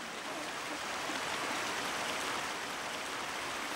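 A flowing woodland stream of the kind where beavers build dams, its steady broadband rush and babble continuous and close, with no voices.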